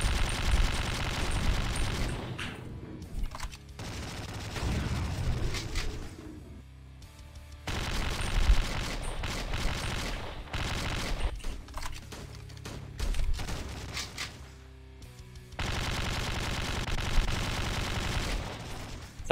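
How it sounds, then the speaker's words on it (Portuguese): Bursts of automatic gunfire from a weapon in Slendytubbies 3, several sustained rapid-fire volleys separated by short quieter gaps, fairly loud and with no talking. "Dá uma rajada, mata."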